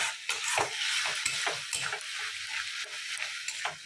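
Ground garlic and onion paste fries in a pan with a continuous crackling sizzle, broken by repeated scraping stirs and light clinks of a utensil against the metal, heard close and alone.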